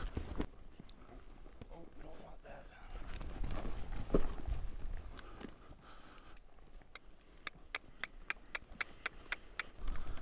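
A mule's hooves beat out a loping gait in a steady, rhythmic clip-clop that sharpens toward the end, set against outdoor rustle with a voice faintly present.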